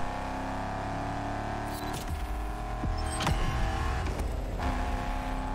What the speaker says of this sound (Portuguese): Uma acelerada boa aqui.